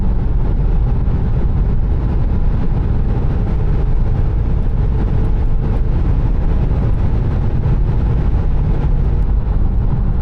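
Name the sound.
Land Rover LR3 driving on the Autobahn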